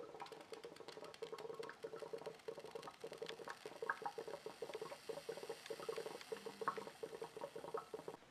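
Water trickling and gurgling through a small homemade water cooler condenser on an electrolysis setup, a steady close patter of flowing liquid with faint bubbling, no voices.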